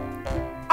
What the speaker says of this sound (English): this is my best dog, Stormy Jane.